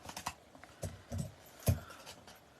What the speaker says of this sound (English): I'm going to bring in a bigger pair of scissors. And I need to remove these tabs